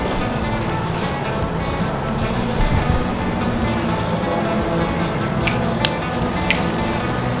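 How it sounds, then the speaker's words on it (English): Onion and butter sizzle in a pan while tilapia sauce is cooked, a steady dense frying hiss with a few soft clicks and sputters, close and moderately loud throughout, no talking. "You can already hear the sizzle."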